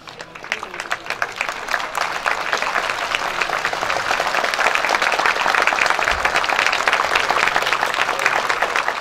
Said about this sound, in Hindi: जोर से स्वागत से अपने ही जगह पर खड़े होकर तालियों से बौछार करो मेरे साथियों